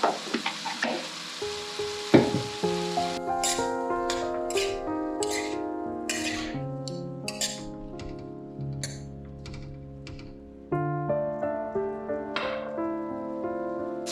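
Tomatoes with salt fry on a high flame while being stirred, with scraping stirs and a steady sizzle under prominent melodic background music throughout.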